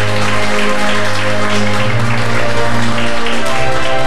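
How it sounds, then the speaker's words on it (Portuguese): A church congregation claps for Jesus, a dense, loud, sustained wash of applause that fills the room, with a low sustained musical tone underneath. "Dê uma salva de palmas para Jesus bem forte"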